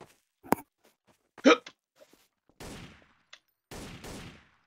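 Gunshots at furniture in Trouble in Terrorist Town, a few sharp separate shots early on, then two longer rough crackling bursts, close and moderately loud with silence between them.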